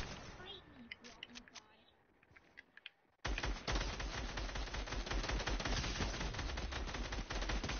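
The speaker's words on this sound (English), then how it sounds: "Oh shoot, that's gunfire." After a few sparse pops, a loud burst of rapid, continuous gunfire erupts and keeps rattling without pause, with voices faintly mixed in.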